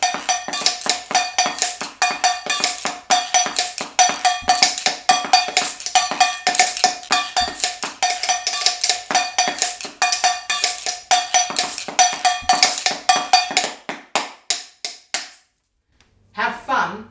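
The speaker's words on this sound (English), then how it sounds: "And then on the cardboard, here we go. Bit of a drum solo." Rapid tapping and clattering on hollow cardboard and a tinny metal can, a busy fast drumming rhythm that stops abruptly near the end.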